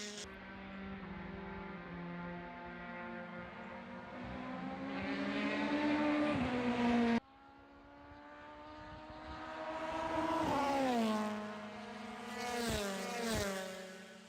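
SCCA Super Tour race cars at VIRginia International Raceway roar past one after another, each engine swelling louder as it nears and then dropping in pitch as it speeds away, with revs climbing through the gears.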